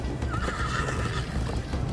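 Horse in the Minecraft Story Mode game neighing with a drawn-out whinny over steady galloping hoofbeats and game score, close and loud throughout.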